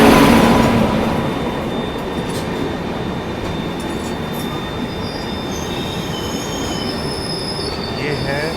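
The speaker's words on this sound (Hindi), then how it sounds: "यहाँ पे किसी और ट्रेन का अराइवल भी हो रहा है।" A passenger train, likely the Howrah–Puri Jan Shatabdi, pulls into Balasore railway station, its wheels screeching with loud, sustained metallic squeals over a heavy rolling rumble that stays close and dominant throughout.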